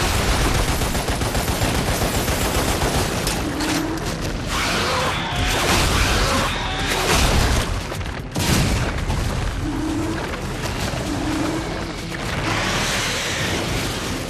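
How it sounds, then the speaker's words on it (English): Relentless gunfire and heavy explosions from multiplayer mech battles in the Xbox 360 game Lost Planet: Extreme Conditions, a loud, dense barrage of blasts and shots that barely lets up. "There are also mechs in the multiplayer, which can make for some pretty exciting and really explosive battles."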